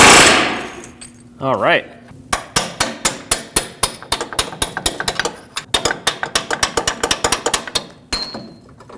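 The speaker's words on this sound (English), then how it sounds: "if we put a chisel in here, it'll separate the two." A hammer striking a chisel to split a washer pressed onto splines while replacing the front lower control arm on a 2006-2015 Lexus IS250, dozens of sharp metallic blows in a steady, accelerating rhythm, with brief speech at the start.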